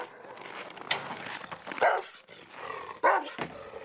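Several dogs bark and growl in short, loud, overlapping bursts at a dog kennel near Krasnoyarsk, close by and echoing.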